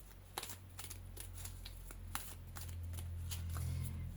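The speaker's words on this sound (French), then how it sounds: "Je vais faire une coupe et puis je vais tirer 5 cartes comme d'habitude." A deck of cards is shuffled and cut, giving a run of crisp riffling flutters and soft slaps spread across several seconds, close and fairly quiet over a low steady hum.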